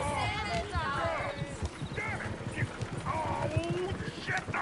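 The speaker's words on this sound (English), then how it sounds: "Oh, shit, the horses! Damn horses!" Horses in the Red Dead Redemption 2 video game, with hooves clip-clopping steadily and near throughout, mixed with voices talking over them.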